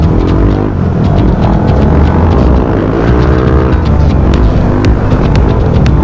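Loud motorcycle exhausts roar and rev together on the road, a dense, close, continuous throbbing engine rumble with rising and falling pitch through the whole stretch.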